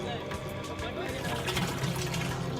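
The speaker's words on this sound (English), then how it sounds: "The water is finally flowing." Sewage-contaminated water runs from a household tap in a city short of water, a close, steady splashing and gushing stream that continues without pause.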